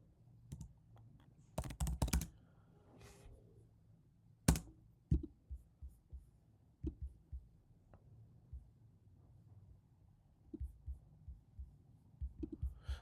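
Computer keyboard typing: scattered key clicks and taps, some in quick clusters and some isolated, fairly quiet and close, with a few louder strikes and no talking.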